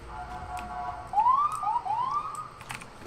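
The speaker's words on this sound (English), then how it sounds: "You have some police sirens outside your house there." A police siren wails with rising and falling sweeps outside a house, fairly loud and somewhat distant, over a steady background noise with no one talking.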